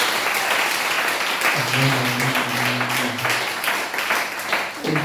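A church congregation in Abidjan applauds and cheers, producing continuous loud clapping with raised voices and a few sustained tones mixed in, while a voice speaks briefly.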